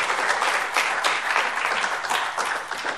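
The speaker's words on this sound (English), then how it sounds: "A special round of applause for Siddharth and his team." Lively applause from an audience at an award ceremony, close and fairly loud, with dense irregular clapping and individual sharp claps standing out over a full three seconds, no speech over it.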